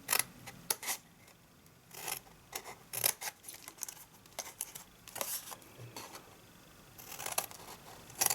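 Scissors snipping through paper card while crafting a small pill box, a series of quiet, crisp cuts and rustles in irregular bursts, close by with no talk.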